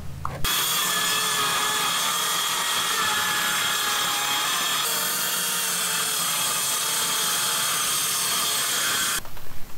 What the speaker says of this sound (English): just getting ready to cut the plywood for the wall